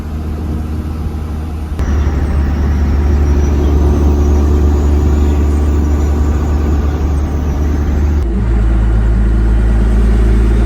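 A car engine drives with a steady low rumble and loud, continuous road and engine noise, the tone shifting slightly as it moves, with no talking.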